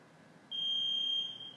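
A workout timer in a recovery and stretching session gives one sustained, clear electronic beep that starts partway through and holds steady over quiet room noise.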